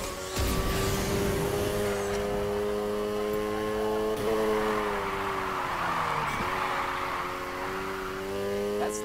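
A car sliding through a drift in Need For Speed Heat, with a steady engine drone that bends and dips in pitch as the slide changes, and faint tire noise at moderate loudness.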